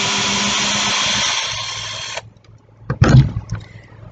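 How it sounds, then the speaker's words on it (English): A steady high-pitched whirring drill with a fine bit runs for about two seconds drilling a small hole in household plastic, then stops; a brief clatter of handling follows. "drill a little hole into these."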